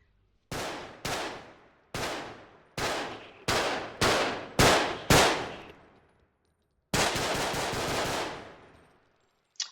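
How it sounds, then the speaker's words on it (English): Gunfire in the video game BodyCam at full gun volume: eight loud, sharp single shots spaced about half a second apart, each with a ringing tail, then a longer burst and a final clipped shot. "I'm putting the gun volume up to 100 just to show a couple shots"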